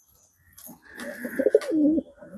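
Highflyer pigeons in a loft give a single close, throaty coo lasting about a second, clear against a quiet background.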